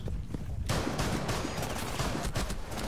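Rapid gunfire from a video game firefight, dense bursts of shots after a brief quieter moment, loud and continuous throughout with sporadic voices underneath.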